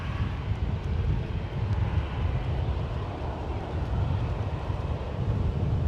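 Jet airliner rumbling on the runway during takeoff at San Francisco International Airport, a steady, loud broadband roar with heavy low-end rumble and some wind buffeting, continuous throughout with no voices.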